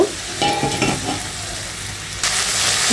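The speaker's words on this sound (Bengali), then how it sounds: "এ পর্যায়ে আমি কেটে রাখা ভেন্ডিগুলো দিয়ে দেব। এটা এর ভিতরে আমি সুন্দর করে কষিয়ে নেব।" Okra being stir-fried in oily masala for a katla fish curry, a loud close sizzle with a few scraping stirs early on, then a steady hiss that jumps brighter near the end.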